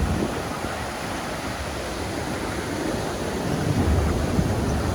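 Ocean surf crashing over rocks at Smyrna Dunes by Ponce Inlet, Florida, a continuous loud wash of noise that swells toward the end, mixed with wind buffeting the microphone.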